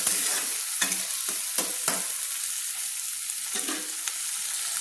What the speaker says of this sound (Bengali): এবার আমি পেঁয়াজগুলোকে লাল লাল করে ভেজে নিচ্ছি।